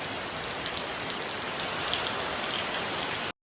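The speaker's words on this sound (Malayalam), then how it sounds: "അതിൻ്റെ ഇടയിൽ നല്ലോണം മഴ പെയ്യുന്നുണ്ട് കേട്ടോ" Heavy rain pours down steadily during a home mealtime, a dense, even hiss of drops on surfaces that holds unchanged throughout with no voices.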